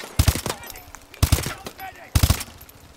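Gunfire in the Call of Duty Advanced Warfare video game: three sharp, loud bursts of automatic fire, each a rapid cluster of shots about a second apart, with quieter game ambience between them.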